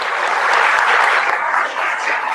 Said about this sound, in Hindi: जोरदार तालियों से हम आपका सम्मान करते रहें।